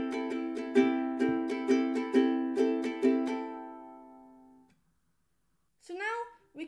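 A ukulele is strummed in a down, down, up, down, up pattern, about eight crisp chord strokes in steady rhythm, left to ring out and fade before a voice briefly speaks.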